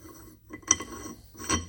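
A steel test nut turns onto a damaged 2 1/4-inch British Standard Whitworth thread on a recuperator shock-absorber part, giving two short metallic scraping clinks close by with a quiet gap between them.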